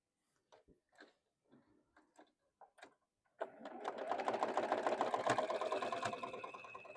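After a few scattered taps and clicks from handling fabric, a sewing machine starts up and runs in a steady, fast, close-up whir while stitching a quilt block.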